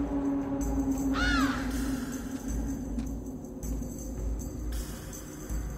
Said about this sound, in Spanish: Por la noche, el cuervo sobrevuela el mar.